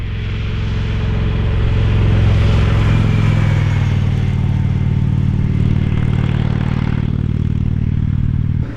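A 2021 Royal Enfield Interceptor 650 twin rides at a Texas speedway track, its engine holding a loud, steady throbbing drone that rises in pitch briefly before settling into a constant cruise with wind rush.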